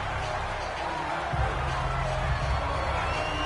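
Football stadium crowd at a Broncos game, a steady wash of distant crowd noise and murmuring cheers that swells slightly midway, with a commentator's voice faintly underneath.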